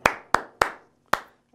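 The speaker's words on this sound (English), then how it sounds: "All right, listen. Clap. Listen. Clap. Listen." Four sharp hand claps ring out close and loud in an uneven rhythm, three evenly spaced and then a fourth after a pause, each with a short room decay, during a guitar class.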